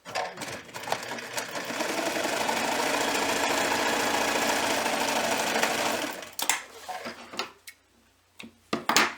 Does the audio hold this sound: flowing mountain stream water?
no